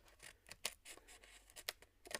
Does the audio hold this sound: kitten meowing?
no